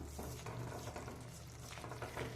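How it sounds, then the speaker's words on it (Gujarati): Potato and spinach sabzi with sugar and lemon juice is stirred and mixed in a pan, a faint close sizzle with soft scraping and stirring strokes, no voices. "હવે આને બરાબર આપણે મિક્સ કરી લેવાનું"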